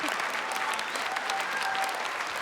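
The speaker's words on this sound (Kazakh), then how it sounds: "Дуғал шапалақ болсыншы менің әкеме" Sustained applause from a concert audience at a creative concert by a singer, dense steady clapping filling the hall throughout with no break.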